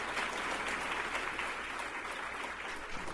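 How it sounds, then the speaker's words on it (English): Audience applause, a dense, steady clapping that fills the whole stretch at moderate volume with no break. "So give yourselves a round of applause because we're here because of you guys."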